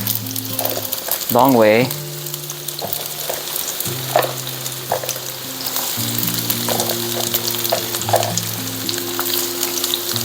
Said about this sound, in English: I'll brown this garlic so we can put it as a topping later on when the dish is done.